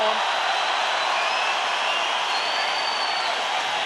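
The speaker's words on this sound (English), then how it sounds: "the crowd roar him on" A boxing arena crowd roars in a steady, dense wash of cheering and shouting that holds loud and unbroken throughout, with scattered whoops rising from the mass of voices.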